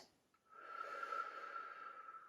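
Quiet, close breath during beginner Pilates with an exercise band: one long, steady out-breath with a faint whistling edge, fading gradually over about two seconds, alone without speech.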